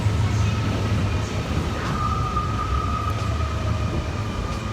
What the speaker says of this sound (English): This train should be about 15-minute ride.